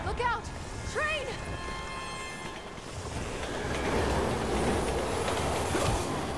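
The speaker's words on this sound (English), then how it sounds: "Look out! Train!" A train approaching in the Resident Evil 6 video game, a rumbling rail roar that swells louder toward the end, opening with a couple of brief high squealing tones amid steady low noise.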